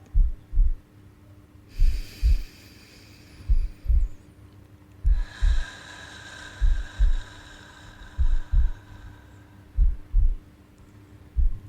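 A human heartbeat thumps in a steady lub-dub rhythm, low and close, roughly once a second. It sits under slow breathing and a faint hum, with soft airy swells rising in the background.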